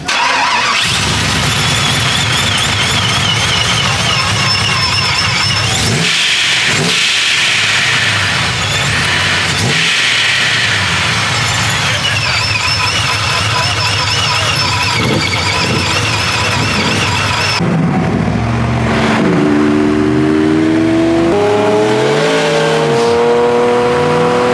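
A Lamborghini engine fires up and revs loudly and close, a steady heavy roar holding for most of the time before dropping back to a rougher, wavering idle near the end.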